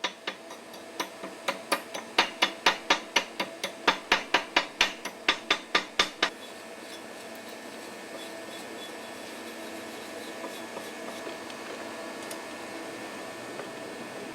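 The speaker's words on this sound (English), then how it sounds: "Remove slag around the crater and clean the area." Slag is chipped from around a weld crater and cleaned, giving a rapid run of sharp metallic taps for about six seconds before fading to quiet hiss.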